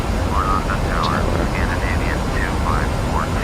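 A CRJ regional jet takes off in a flight simulator game, heard as a steady, loud broadband engine roar with faint wavering tones drifting over it throughout.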